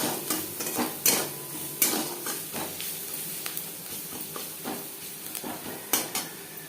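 Onions frying in a pan for Katla Kalia fish curry, with steady sizzle under repeated scraping stirs and clinks of a utensil against the pan, close and fairly loud, no voices.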